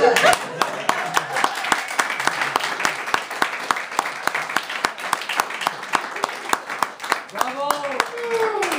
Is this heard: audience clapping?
yes